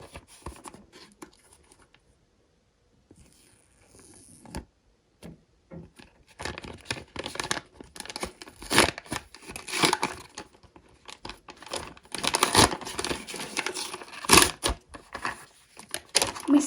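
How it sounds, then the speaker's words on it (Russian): A crinkly paper packet from a paper surprise bouquet is opened close up. A quiet start gives way to dense, irregular crackling and rustling that grows louder and busier toward the end. "Откроем этот хрустящий пакетик"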